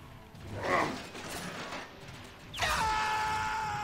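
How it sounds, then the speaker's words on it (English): A metal door is pried open in the video game Transformers: Fall of Cybertron, with a grinding mechanical creak and a clank, then a loud ringing scrape and resonant metallic groan near the end. "Let's pry open doors."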